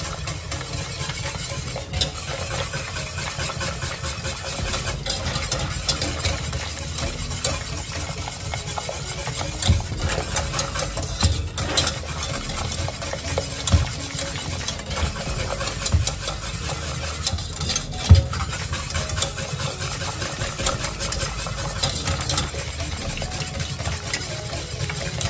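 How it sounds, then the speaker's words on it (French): Steady stirring of turkey stew in a pot as butter and cream go in, a continuous soft scraping and bubbling texture with no talk over it. "Là, je vais continuer à mélanger"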